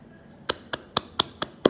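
Six sharp hand claps in an even, quick rhythm, each crisp and close, with quiet room tone between them.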